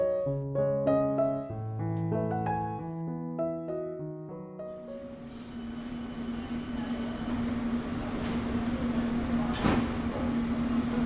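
Train rumble fills a passenger compartment in an audio drama, entering after a short musical phrase and settling into a steady, moderately loud drone with a sustained hum and a brief clank near the end.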